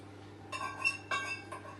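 Flour and sugar are added to a bowl for a banoffee pie, with three or four light, bright clinks of a utensil against the bowl. The clinks are spaced about half a second apart in a quiet kitchen, with no talking.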